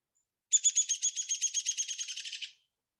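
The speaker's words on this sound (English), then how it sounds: "In the spring, they both do a whinny call that sounds a little like this." A downy woodpecker's whinny call played back from a phone, a quick descending series of about fifteen sharp, high-pitched notes that speed up and fade over two seconds, clear and close against silence.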